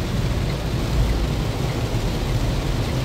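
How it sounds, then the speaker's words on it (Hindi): Heavy rain pounding a car on the road between Indore and Ahmedabad near Godhra and Dahod, a loud, dense, unbroken roar of water with a low rumble underneath. "बहुत ही ज़्यादा बारिश हो रही है"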